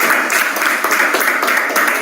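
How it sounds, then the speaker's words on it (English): An audience of students claps steadily at an in-person education kickoff, a dense continuous patter of hands at moderate loudness over the short span. "Give yourself a round of applause."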